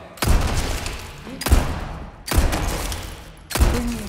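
Four heavy gunshots ring out at even intervals as enemies take headshots in Resident Evil 4 Separate Ways, each blast loud and close with a short decaying tail.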